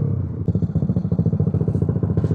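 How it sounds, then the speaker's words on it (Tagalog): A Yamaha Aerox scooter fitted with a 232cc JVT big-bore kit idles close by with a loud, lumpy, rapid thumping pulse that holds steady throughout. "Ayaw mo magpatay ng makina. Parang generator ah."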